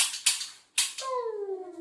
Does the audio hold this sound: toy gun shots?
yes